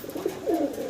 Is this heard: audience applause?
no